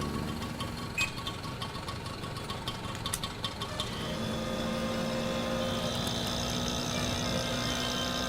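A car engine runs close by, with a brief rattle early on and then a steady, continuous idle hum that holds to the end with no talk.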